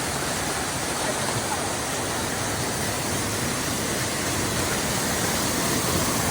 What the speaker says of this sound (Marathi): यात साईडला बघा धबधबा येत आहे मस्त की असा सुंदर असा धबधबा आहे छोटासा आहे